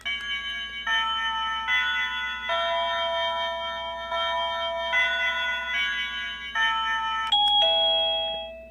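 A Tektalk wireless doorbell chime set to its highest volume plays a run of bright, clean electronic tones over a low background hum, ending on a longer ringing note.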